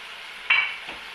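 Onion dropped into a pan with liver and garlic, a sudden bright sizzle that flares up then settles into a quieter steady frying hiss.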